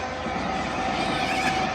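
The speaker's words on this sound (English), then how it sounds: "Let me just go to this clip where a train went past and all the birds from the area flew up at us." A train rumbling steadily past a campsite, a loud continuous rolling roar with a sustained tonal hum through the whole stretch.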